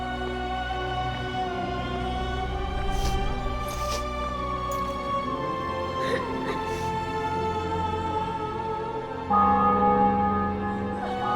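Church bells toll through a busy Witcher 2 game scene in a captured city and fortress, ringing steadily under a dense wash of ambient sound, with a brief swell of louder tone near the end.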